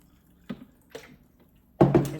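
Water poured into a small 450 ml travel electric tea kettle, heard as two short splashes followed by a louder, steadier pour, close and with no talk.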